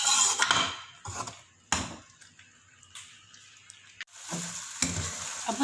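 Butter chicken mixture sizzling in a pan, a loud frying hiss broken by sharp clatters of a utensil stirring and scraping, with the sizzle swelling and easing between strokes.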